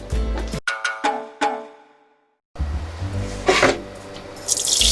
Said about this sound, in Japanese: うちでは 流水で牡蠣を 洗う、 そして汚れを取るっていうのをやってます